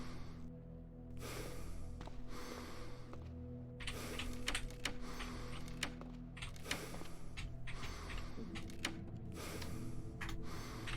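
Mechanical whirring in a video game, a steady low machine drone with layered hums running throughout, overlaid by repeated clattering, ticking mechanical bursts, fairly quiet and continuous with no voices.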